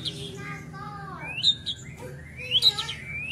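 Magpie robin songbird singing nearby, a few bright whistled phrases with rising and falling notes in a short burst, with a soft low hum underneath.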